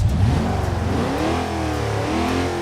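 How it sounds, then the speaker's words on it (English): A 5.7-litre V8 in a 1973 Oldsmobile Delta 88 revs hard with a custom engine sound taken from Forza Motorsport, in the BeamNG driving game, its pitch climbing and falling in steady sweeps, close and loud, with no voices. "we have a custom engine sound"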